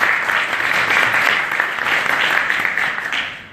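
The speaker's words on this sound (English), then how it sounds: "let's give them a round of applause" Conference attendees at a leadership keynote give a round of applause, a thick, continuous roar of many hands clapping, loud and sustained before tapering slightly at the very end.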